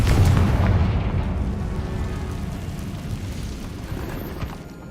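Confringo explosion spell from Hogwarts Legacy bursting in a deep, loud boom at the start, its low rumble slowly decaying over several seconds with no voices.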